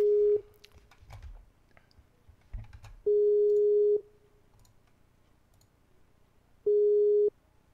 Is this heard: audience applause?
no